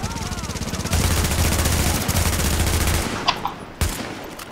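An automatic rifle in The Division empties a full magazine in a loud, continuous rapid-fire burst, with a couple of separate louder shots near the end.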